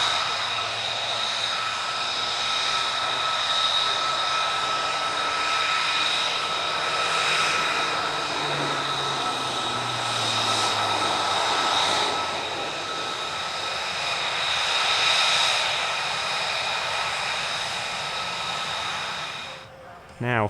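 Fixed-wing aircraft engine droning steadily and loud throughout an aerobatic display at an Italian Air Force centenary airshow, with the pitch shifting as the plane manoeuvres, briefly fading near the end.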